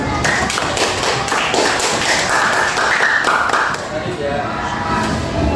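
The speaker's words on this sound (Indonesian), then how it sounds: "Sebenarnya kita tepuk tangan dulu." A classroom of fifth-grade students claps hands together during an elementary science lesson, a steady rhythmic patter of taps that runs for several seconds with voices of children and a teacher mixed in.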